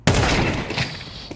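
A loud, close burst of rapid gunfire in the Counter-Strike video game hits hard and then decays into a rattling tail, with a small click at the very end.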